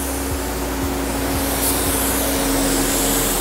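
A spray gun lays clear coat onto a Subaru STI in a steady, close hiss of atomized spray, broadband and continuous for the whole stretch, with a faint hum and a few soft low clicks beneath it.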